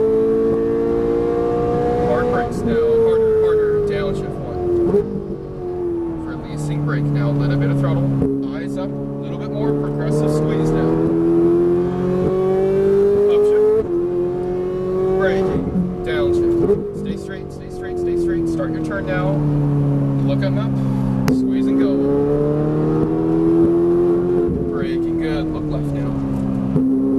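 Ferrari 458 Italia engine revving hard under acceleration, its pitch climbing and dropping repeatedly as it downshifts, loud and close from inside the car, with a voice coaching the driver over the sustained engine roar.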